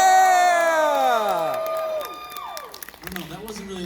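Convention audience at a closing ceremony cheering and whooping in a loud burst that fades over a couple of seconds, with scattered claps and shouts trailing off.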